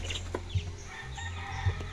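Young fighting cock stags in a backyard breeding yard clucking and giving short crowing calls, close and moderately loud with no talk.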